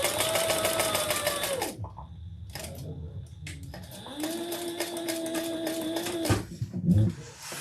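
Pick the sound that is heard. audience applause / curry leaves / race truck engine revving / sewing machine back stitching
sewing machine back stitching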